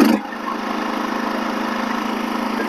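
A dual fuel portable generator running on propane from a barbecue tank beside a camper trailer, a steady close mid-pitched engine drone with a fast pulsing rumble after a brief start-up burst.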